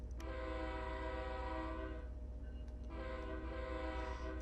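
A high-pitched locomotive horn in Train Sim World 3, a US train simulator, sounds as a loud, steady multi-tone chord for several seconds, dipping briefly in the middle before sounding again over a low rumble.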